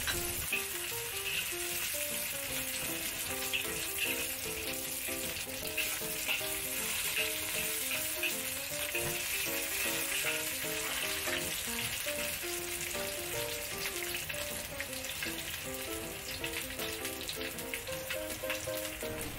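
Shallots and ginger stir-fry in a wok with a continuous close crackling sizzle and occasional stirring clinks, steady for the whole stretch beneath soft background music, no voices.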